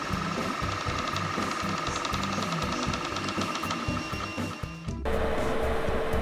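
An old 3D printer's stepper motors whine and buzz while printing, shifting tonal patterns pulsing rapidly and loudly, then changing to a steadier tone near the end.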